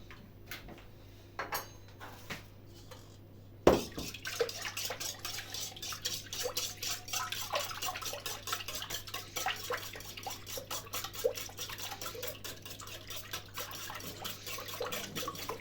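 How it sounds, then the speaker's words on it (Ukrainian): A whisk clinks steadily and rapidly against a bowl as a dough batter with two eggs is mixed, a close, continuous rhythmic tapping with no talk. "І знов перемішуємо вінчиком"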